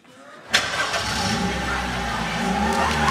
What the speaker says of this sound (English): Let's start this car up.